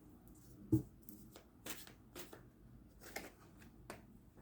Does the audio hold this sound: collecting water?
no